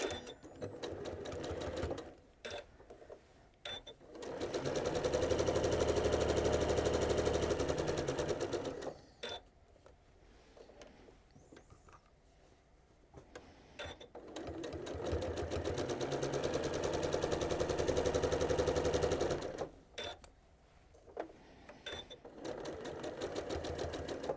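A sewing machine stitches quilt pieces in two long continuous runs of rapid, steady whirring, loud and close, separated by quieter pauses with small handling clicks.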